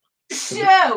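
One sharp human sneeze bursts out close to the microphone after a brief silence, loud and breathy, trailing into a short nasal tail.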